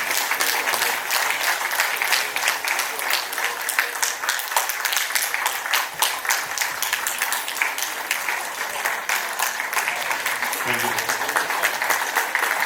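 A congregation claps loudly and continuously for about thirteen seconds at a concelebrated feast-day Mass, dense unbroken applause filling the church with a faint murmur beneath it.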